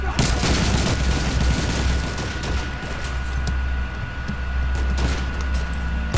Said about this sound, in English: Sounds of bombs.